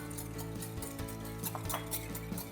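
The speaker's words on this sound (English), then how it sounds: "just whisking as we work here" Oil, sugar, salt and dry mustard are whisked together for a vinegar slaw, giving a soft, continuous scraping stir with light rhythmic clicks of the whisk against the bowl, quiet and steady with no talk.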